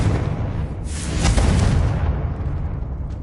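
Confringo blast spell going off in a Harry Potter video game, a deep rumbling explosion that swells to a bright burst near the middle and then tails off in a rolling low roar, loud and close.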